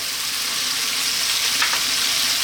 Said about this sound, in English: I'm now going to drop in that 1 onion.